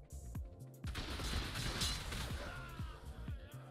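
A rocket launcher fired at tech turrets in the game ARK, with a loud whooshing blast over continuous turret fire, its repeated sharp thuds rattling around the impact.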